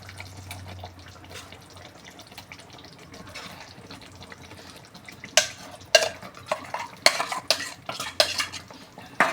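Mutton mince being sautéed with onion-tomato paste and homemade garam masala in a pan, with a spoon stirring and scraping in loud clinking bursts against the metal toward the end, over a low kitchen hum.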